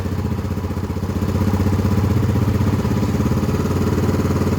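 Yamaha Xeon carburetted scooter engine running steadily after starting, a close, loud, even mechanical putter and clatter that holds for the whole stretch with no talk.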